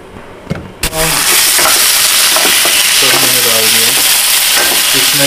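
Chopped lettuce hits hot olive oil in a pan with a loud sudden burst of sizzling, then a steady, close frying hiss with a few scraping knocks.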